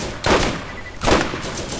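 A deployed sentry turret in the Borderlands video game fires two loud bursts of rapid gunfire about a second apart, close and dense, with no talking.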